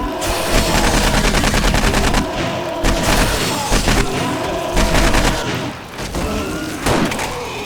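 Loud, sustained automatic gunfire in the survival game 7 Days to Die: rapid bursts of shots rattle almost without pause, with heavier booming thumps mixed in.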